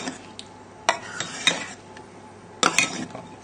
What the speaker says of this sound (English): and then fold, fold, fold